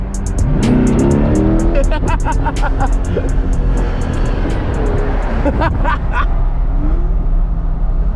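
A Chevrolet C8 Corvette's engine roars and revs hard, roof off, loud and close, with the pitch climbing through gears while people talk and exclaim underneath.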